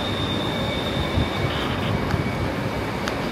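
A BTS Sukhumvit line train in Thailand rolls into the platform with a continuous loud rumble and a thin, high wheel squeal running through it.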